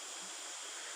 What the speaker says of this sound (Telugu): అక్కడి నుంచి వాటర్ వెళ్తూ ఉంది